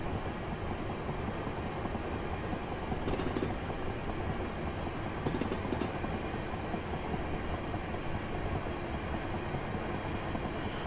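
A Class 375 electric multiple unit on the Chatham Main Line in Train Simulator 2016 runs steadily, a constant rolling rumble with faint rhythmic clickety-clack from the wheels and a couple of short higher clicks, heard alone.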